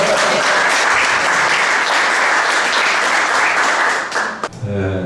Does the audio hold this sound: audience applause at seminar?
yes